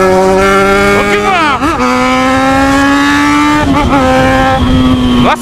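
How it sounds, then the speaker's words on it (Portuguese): A Camaro accelerates hard during a street race, its engine note climbing loud and close in sustained pulls with gear-change dips between them. "Olha, ele tá acelerando, hein, mano."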